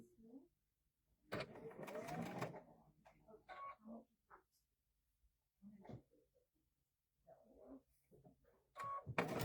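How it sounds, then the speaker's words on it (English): Short bursts of a sewing machine stitching quilt pieces for a table runner, with a longer run followed by brief stop-start stitching. A person talks between and over the bursts. "So let me sew this on here."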